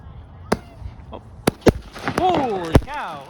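Loud fireworks bang at a Victoria Day display in a North York park, Toronto, several sharp booms at irregular intervals, near and echoing, with excited voices calling out between them.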